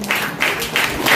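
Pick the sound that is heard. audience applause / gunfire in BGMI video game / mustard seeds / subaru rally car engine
audience applause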